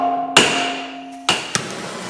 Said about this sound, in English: I'll try and hit the end of the axle here and try and break them all loose